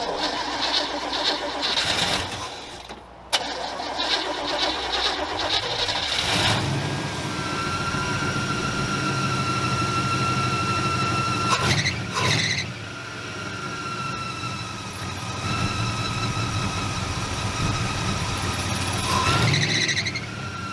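A worn-out car engine from a Gambler 500 off-road rally build runs rough and clattery like a diesel, a steady loud idle with a brief dropout and a squeal partway through, no talking.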